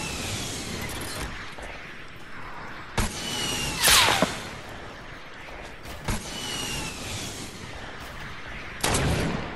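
Bursts of gunfire from enemies in a squad battle video game, with sharp shots around a few moments and a louder crackling volley in the middle, set over constant game background noise.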